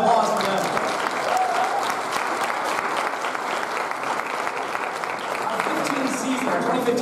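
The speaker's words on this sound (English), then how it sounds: "A round of applause for them." A theatre audience at an anniversary cabaret bursts into sustained applause for the show's sponsors, a steady dense clatter of many hands, with a voice briefly heard at the start.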